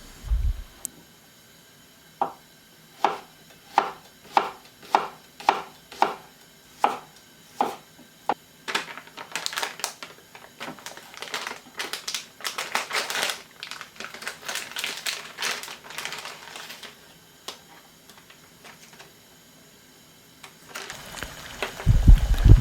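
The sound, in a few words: knife chopping green onion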